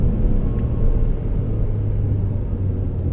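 A 2017 Mercedes C200 AMG engine rumbles loudly and steadily from inside the car during aggressive downshifting, a dense low drone with little change over a few seconds.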